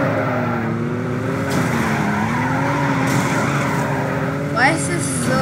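A strange three-wheeler car in the Roblox game Car Crushers 2 drives with a loud, steady engine drone and a sustained tire-squealing skid, ending with a brief sharp squeal near the end.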